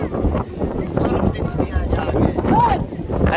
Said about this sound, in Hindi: अच्छा ये कैसी हवा चल रही है? हवा गर्म है